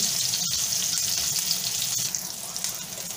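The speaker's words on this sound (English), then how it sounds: "in a hot pan I added my potato because I want to fry them" Potatoes fry in a hot pan with a loud, continuous close-up sizzle and crackle that eases slightly partway through, with a few small knocks.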